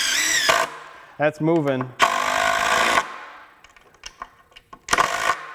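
A compact 20V cordless impact driver on its slowest level 2 setting for decking, running in two short close whirring bursts with a person talking between them.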